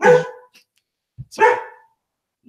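A dog barks twice, close and loud, with a short pause between the barks and a brief word spoken quietly in between.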